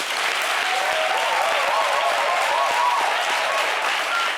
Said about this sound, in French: On va applaudir pour vous, mon public.